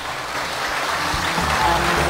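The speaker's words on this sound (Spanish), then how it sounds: "Excelente, señores, fuertísimo ese aplauso." A large audience at the Baila Córdoba 2015 dance competition final claps loudly in a dense, continuous roar of applause, with a steady low rumble underneath.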